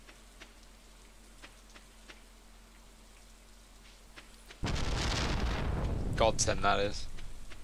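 Rain in the Stardew Valley farming game starts abruptly partway through and becomes a loud, steady hiss over faint earlier ticking, with a voice talking over it near the end.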